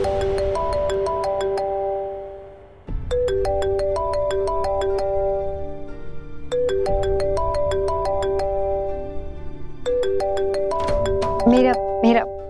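A mobile phone plays a loud, bright melodic ringtone in repeating phrases with brief pauses, continuing under a TV serial's background music and ending with rising chime notes.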